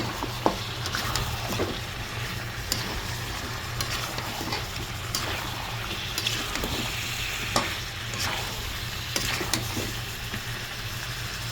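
Beef curry with vegetable stems and spices stirred in a sizzling pan, a constant close fry with repeated scraping and clacking of a spoon against the metal at uneven intervals; nobody talks.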